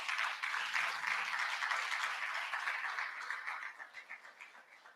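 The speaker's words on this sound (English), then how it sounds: "Let's keep clapping, let's keep clapping." A summit audience claps in a broad, even wash to welcome a speaker, fairly distant and thinning out toward the end, without any talk.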